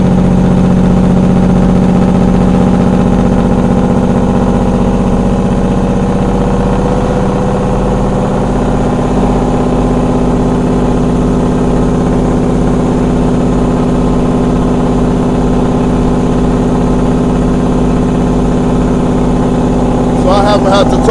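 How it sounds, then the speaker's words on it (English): A Peterbilt 379 truck with a Caterpillar engine and a 7-inch straight pipe drones loudly and steadily throughout, a deep continuous engine rumble heard from inside the cab while someone talks over it. "a Caterpillar makes a lot of noise"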